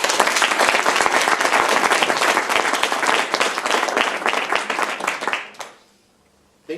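An audience at a spring English speaking contest conference gives the speakers vigorous, close applause with dense, rapid clapping that stops abruptly near the end, leaving brief silence before a final small sound.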